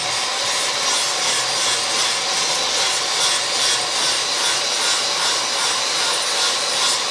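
Continuous abrasive grinding on body filler of a Charger car body under restoration, a steady harsh rasping hiss with no pauses, close and loud throughout.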